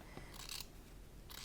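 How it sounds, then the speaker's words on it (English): Scissors trimming and grading fabric seam allowances while sewing: two or three quiet, crisp snips spaced apart, close but faint, with no talking. "you can hold your scissors at an angle if you like to kind of grade those seam allowances"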